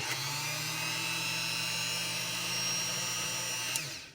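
A Katerk rotary tool with a flex shaft spins up and holds a steady, high-pitched whine for about four seconds before winding down, close and continuous with no talking.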